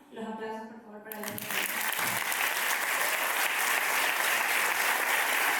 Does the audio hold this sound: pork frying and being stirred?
no